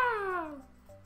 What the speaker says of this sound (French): C'est le chat, c'est le stage de Mario Chat.